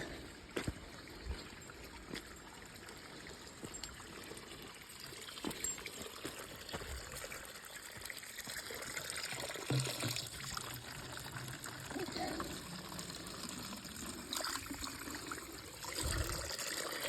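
Water trickles and splashes steadily from a spring pipe on a trail near Carvers Gap, a soft continuous flow with small drips and gurgles, fairly quiet and close by.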